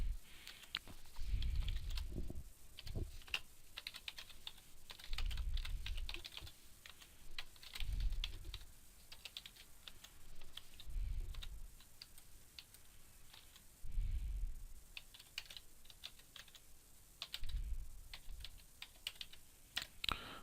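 Keys clatter on a computer keyboard as a mailing address is typed, arriving in several short bursts of rapid, close clicking separated by brief pauses.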